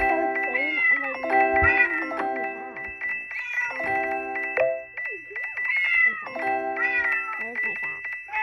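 Cartoonish cat meows from the video game Cat Condo 2, a steady string of bright, sing-song mewing calls repeating over game music, with someone talking at times.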